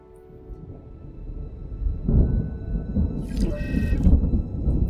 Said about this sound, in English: Oh no, we got a storm coming.